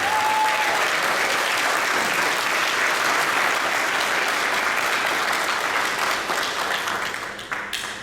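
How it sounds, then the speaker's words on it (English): Sustained, dense applause from an audience honoring a high school soccer team at Valdosta High School, steady and loud throughout before tapering slightly near the end. "Let's give them another round of applause."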